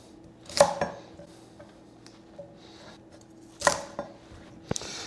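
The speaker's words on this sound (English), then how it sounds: "So I need to trim up these" A kitchen knife trims fresh rhubarb stalks on a cutting board, giving a few sharp, close cuts and taps spaced apart over quiet background, with no talking.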